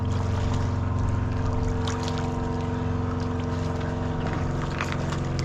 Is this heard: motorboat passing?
yes